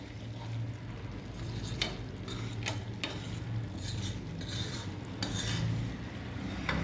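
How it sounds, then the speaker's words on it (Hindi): Flour and ghee being stirred in a small, overfilled kadhai, a steady low scraping and sizzling bed with occasional sharp clinks of the ladle against the metal, close and continuous. "अब धीरे धीरे पैंदा नहीं लग जाए, बस इसको हिलाता रहे।"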